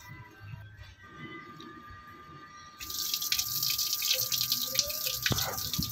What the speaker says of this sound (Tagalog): Una natin gagawin guys is lagyan natin ng tubig yung kaldero.